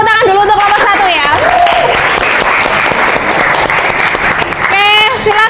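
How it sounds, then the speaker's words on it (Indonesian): A classroom of students applauds a presenting group with loud, continuous clapping, while voices cheer and call out over it, one rising at the start and another near the end. "kita berikan tepuk tangan dulu untuk kelompok 1 ya"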